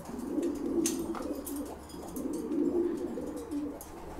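Soft, throaty pigeon coos from loft birds, among them a big-nosed female, repeat in gentle rolling bursts nearby, with a few faint clicks and rustles in a quiet room.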